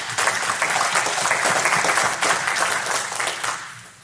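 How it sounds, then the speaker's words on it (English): An audience at a real estate investing talk breaks into sustained, dense applause that fills the room steadily and tapers off near the end. "Give yourself a round of applause for coming in there."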